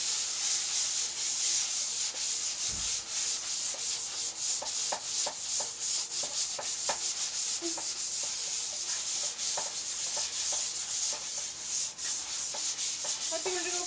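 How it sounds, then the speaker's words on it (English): Small parts from a 1970s Trans Am are sanded by hand with sandpaper, giving a steady, close, continuous rubbing scrape with soft rhythmic strokes throughout. "Just gently, gently. You don't have to sand it hard."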